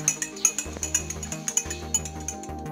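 A spoon clinks rapidly and rhythmically against a glass while stirring all-purpose cream and cold water for keto dalgona coffee, bright repeated taps over soft background music.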